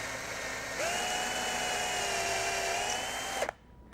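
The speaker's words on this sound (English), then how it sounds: "and we're going to drill out the hole" A power drill boring a hole in an upper corner to fit a galvanized screw eye for bird netting: one loud, steady whine that holds for about three seconds, then cuts off.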